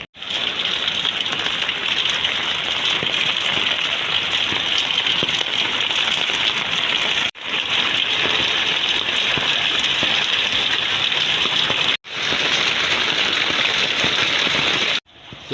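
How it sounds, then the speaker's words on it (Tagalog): Heavy rain pours down in a dense, steady roar, continuous and loud, with a couple of brief cuts breaking the downpour. "Palakas pa rin ang palakas ang ulan."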